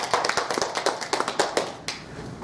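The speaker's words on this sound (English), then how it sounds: "have some applause" A small audience claps for a man introduced to give a speech, a brief patter of scattered handclaps that fades after a couple of seconds.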